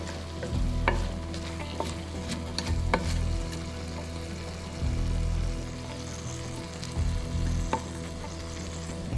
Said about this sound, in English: And turn it up a bit to toast that garlic.